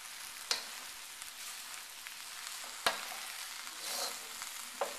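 Noodles being stir-fried with sauce in a pan, a steady soft sizzle with occasional sharp scrapes and clatters of the utensil working through clumps.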